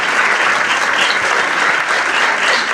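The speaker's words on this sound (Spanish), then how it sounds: "Seamos más generosos con los aplausos" Applause from an audience at an academic event of a birds festival, a dense, loud, sustained wash of clapping hands with no pauses, heard close.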